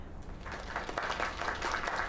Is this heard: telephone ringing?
no